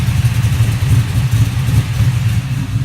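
A Chevrolet F-body car idles with its exhaust rumbling, a deep, loud, steady low throb with a slightly lumpy pulse, heard up close without talking.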